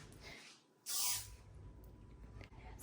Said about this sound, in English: Spray a tree with it.